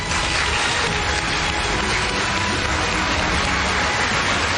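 Enthusiastic applause fills a hall during a congratulatory visit to the Russian embassy in Pyongyang, a dense, steady roar of many hands clapping together without pause.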